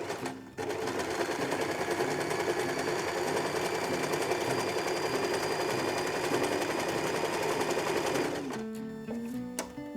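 A sewing machine stitching the first stage of a 4-step buttonhole runs in a fast, steady mechanical chatter for about eight seconds, then stops, followed by a few faint clicks. Nobody talks.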